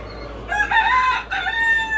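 A rooster crows once nearby, a loud drawn-out call with a brief break in the middle, over faint background noise.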